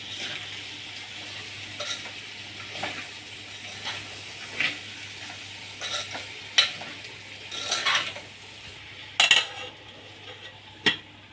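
Vegetables, ivy gourd for pasara pappu, stirred in a pan with a spoon, giving soft scrapes and scattered sharp clinks against the metal over a quiet sizzle, followed by a lid being set on top.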